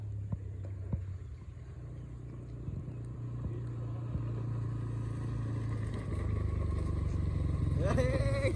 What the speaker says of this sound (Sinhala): ඔය එන්නේ බයික් දෙක ඒ කොල්ලෝ ටික එන්නේ.